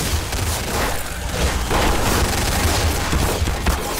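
Rapid automatic gunfire from a machine gun in the sandbox game Garry's Mod, a dense continuous fusillade with booming low thumps throughout, loud and close.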